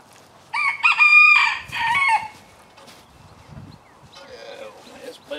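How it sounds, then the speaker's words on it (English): Chickens crow loudly close by, then softer clucking and another distant crow follow, with faint rustling in the background. "Y'all can listen to the chickens because they are"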